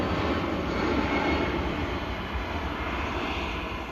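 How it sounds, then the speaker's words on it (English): EasyJet jet airliner taking off at Manchester Airport, a steady broad roar of engine noise heard from a distance, holding level for several seconds with no voices. "As the EasyJet rotates off, another EasyJet heads into shot out to Munich."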